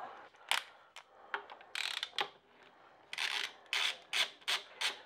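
On a Suzuki Bandit 1200, a clutch nut is unscrewed by hand, giving faint, close scraping and ratcheting rubs in short repeated strokes that turn more rhythmic toward the end.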